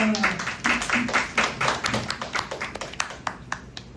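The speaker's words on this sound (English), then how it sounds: "let's all give a warm round of applause to Alyssa." An audience at a women-in-tech talk in Manila claps for a speaker, with uneven close-up hand claps that start fairly dense and then thin out to scattered claps over about four seconds.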